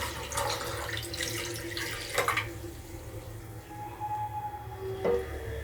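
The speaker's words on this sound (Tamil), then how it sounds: "நாம் எடுத்து வச்சுருக்கோம் இல்லையா இளநீர் தண்ணி, அதை எடுத்து இதில் வடிகட்டிப்போம்" Coconut water trickles and splashes steadily as it is poured through a strainer into a bowl, with a few clinks of utensils along the way.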